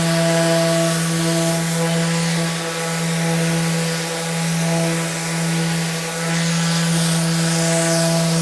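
A Festool ETS EC 150 eccentric sander working painted material gives a loud, steady, humming motor whine with a gritty abrasive hiss that dips briefly a few times, with no one speaking.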